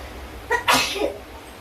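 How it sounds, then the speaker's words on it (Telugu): A single close, sharp sneeze bursts out in a steamy home kitchen while gongura dal cooks, with a quick intake of breath just before it and quiet background afterward. "తుమ్ములు కూడా వచ్చేస్తాయి."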